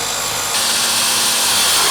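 A saw cuts through plywood with a loud, close, continuous rasping. The cut grows harsher and brighter partway through, with no voices over it.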